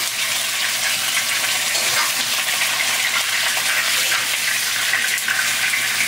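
Mackerel frying in a hot pan for a braised dish, a steady dense sizzle that stays loud and even throughout with no voices.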